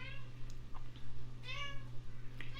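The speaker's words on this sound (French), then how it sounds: "c'est mon chat qui n'est pas content" A cat meows several times in short, insistent cries, close by, over a low steady hum.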